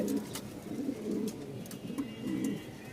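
Pigeons coo in repeated low, soft phrases at a pigeon farm in Mirpur, the rolling calls rising and falling a few times over quiet background with faint clicks.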